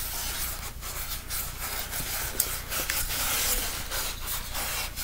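Felt is rubbed firmly on a mask during felting, making a close, steady hissing scrape in repeated back-and-forth strokes with no pause and no talking.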